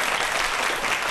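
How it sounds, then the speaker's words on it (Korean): A lecture audience applauds a speaker with a short, dense, steady burst of clapping heard up close. "여러분 큰 박수 부탁드리겠습니다"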